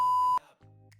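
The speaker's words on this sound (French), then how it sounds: "On va mettre un bip!" A single loud censor bleep, a steady pure tone holding for about a third of a second, followed by a brief quieter buzzing tone and a short burst of noise at the end.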